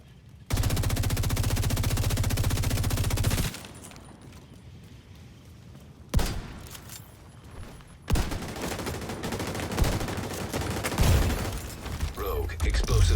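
Shotgun blasts from The Division 2 gameplay, where the shotgun is paired with a backpack build: a loud, sustained barrage of firing for about three seconds, then a quieter stretch, followed by further bursts of gunfire and impacts.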